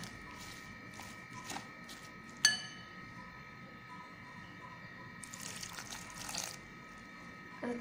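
Water trickled into onion pakoda batter for crisp Marathi-style kanda bhaji, a soft liquid pour with a few faint clinks against the bowl, mostly alone with little else beneath it.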